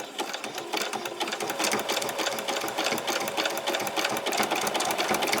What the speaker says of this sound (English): And then just take your time and then do some back stitches. And then come forward again.